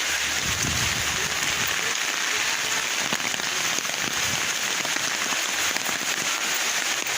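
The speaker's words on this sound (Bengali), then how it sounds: "আজকে ফজরের পর থেকে শুধু বৃষ্টি নামতেছে আর বাতাস।" Heavy rain with wind pours steadily onto a flooded street, making a loud, even, unbroken hiss with faint crackling patter throughout and no voices.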